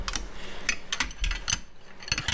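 A bolted section is wound along a threaded rod during a strip-down of a TVR Tuscan Speed Six. The rapid ratcheting clicks come close and in irregular bursts.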